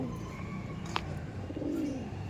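Andhra pigeons coo softly in a low, rounded tone, with one coo swelling near the end over a faint background hum and a brief click.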